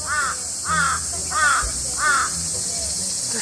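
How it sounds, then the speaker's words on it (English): Crows cawing nearby outdoors, four loud, evenly spaced harsh caws at about half-second gaps, close and clear over a steady background hiss. "we are being slowly circled in by crows"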